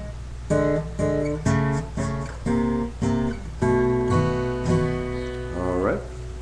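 A piano plays a blues turnaround in a steady run of struck chords, the seventh stepping down in the bass while the third climbs on top, ending with a quick rising flourish; close, clear and unaccompanied.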